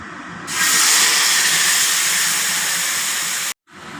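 Mustard spice paste with turmeric and salt dropped into hot oil in a wok, a sudden loud, steady hiss of frying that holds for about three seconds and then cuts off abruptly, close and alone.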